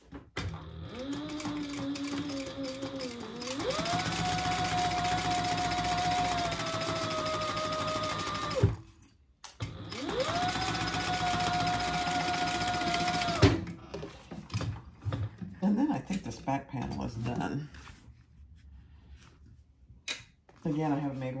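Sewing machine top-stitching handbag seams, two long steady motor runs of several seconds each with a brief pause between, loud and close, followed by quieter fabric handling.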